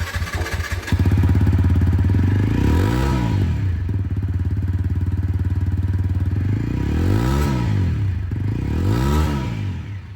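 A 2023 TVS Apache RTR 160 4V motorcycle with an updated exhaust starts and idles loudly up close, with a steady throbbing exhaust note and several sharp throttle revs that rise and fall.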